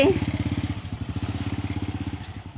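A motorcycle engine sputters and chugs with a steady, rapid idle rhythm, loud and close, after a brief start.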